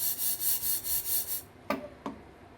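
Dry-roasted ingredients shaken in a kadai give a steady rhythmic rasping rattle of about six strokes, near and moderately loud, followed by two sharp clacks as the pan settles.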